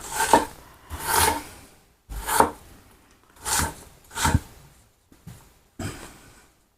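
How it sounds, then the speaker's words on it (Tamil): A knife slowly cuts through black chicken for gravy, giving about seven separate chopping and scraping strokes spaced roughly a second apart, close and fairly quiet with no talking. "அதனால தான் ஸ்லோவாக வெட்டுறேன்"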